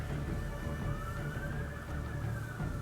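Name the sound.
police car sirens passing outside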